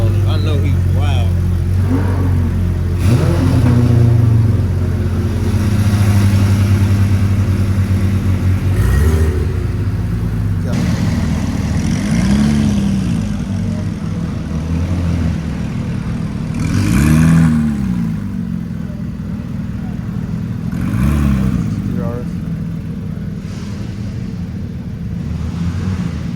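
A Ferrari fitted with an aftermarket exhaust idles with a deep rumble and revs in several loud, rising bursts at a car show, with people talking nearby throughout.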